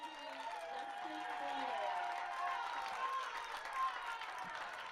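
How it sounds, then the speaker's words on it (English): Crowd noise at a junior men's softball game between Canada and Mexico, with a broad steady murmur of spectators and scattered cheers and claps, while a commentator talks over it throughout. "So a little encouragement from the crowd here in attendance, trying to spark their team on"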